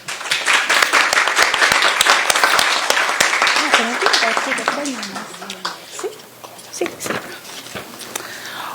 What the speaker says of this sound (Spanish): a quien por favor le brindemos un fuerte aplauso